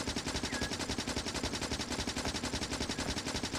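Rapid, continuous automatic gunfire from weapons shooting at armored enemies in the Factorio video game, a steady rattling stream of shots at even rhythm throughout, with no talk.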